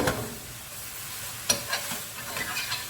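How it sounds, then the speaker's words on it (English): Minced meat frying in a pan over the highest heat while a utensil stirs it, giving a steady sizzle broken by a few sharp scraping knocks in the second half, close up and with no talking. "we're sautéing the mince or frying the mince rather than boiling it in water"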